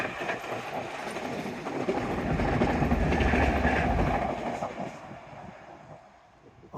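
An InterCity 125 train passes along a seaside seawall, a loud sustained rumble and rail clatter that swells to a peak and then fades away as it recedes, with no talking over it.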